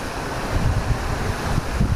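Munduk waterfall in Bali pouring into its pool below, heard as a steady, loud low rushing roar with wind buffeting the microphone, no voices over it.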